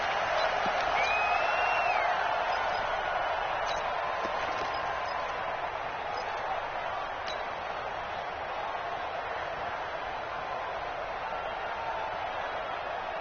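A packed NFL stadium crowd before a New York Giants versus Arizona Cardinals game, holding a steady, dense roar of cheering and murmur at an even level throughout, with a few faint clinks and no clear speech on top.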